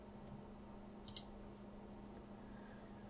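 A computer mouse clicks during setup in Spyder Studio software, two small, faint, close clicks about a second apart over a quiet steady hum, with no talking.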